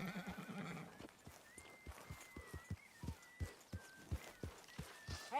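A horse whinnies loudly at the start, then hooves clip-clop in an uneven rhythm close by, with faint high tones above, in the video game Red Dead Redemption 2.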